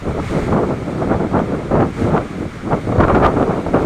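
Strong gusty wind from Typhoon Odette buffets the microphone in rolling surges, loud and rumbling throughout, with a watery roar underneath.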